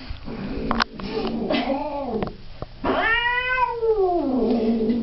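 An angry cat yowls at the vet: long, drawn-out caterwauls that rise and fall in pitch, loud and close, separated by brief pauses and sharp clicks of handling noise.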